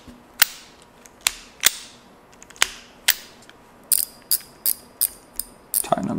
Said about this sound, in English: Tighten up that drag a little bit.